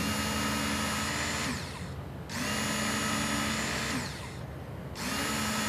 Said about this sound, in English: now we're just going to hone the knife